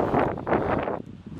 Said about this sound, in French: Plein vent!